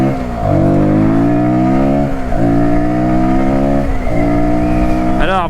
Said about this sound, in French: on l'entend un petit peu rugir quand tu donnes des petits coups de gaz.